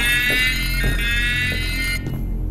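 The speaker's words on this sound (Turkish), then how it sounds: "Yangın alarmı." Fire alarm in the horror game Don't Fret, a loud continuous electronic ringing tone that cuts off abruptly near the end, heard alone without talking.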